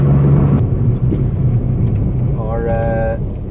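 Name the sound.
Honda DC5 car engine with ITBs and K-series idling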